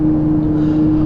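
A Ferrari 458 Italia's exhaust burbles and gurgles close by, loud and steady, with a low droning tone through a short stretch.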